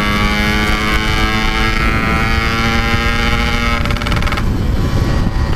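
Yamaha RX King two-stroke motorcycle engine running loud and steady nearby, a dense continuous drone with sustained harmonics, briefly shifting pitch near the end as it revs.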